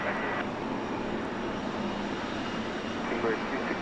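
A heavy airliner on its takeoff roll on runway 27 at San Diego airport, a broad continuous jet roar at steady loudness, with faint radio chatter mixed in.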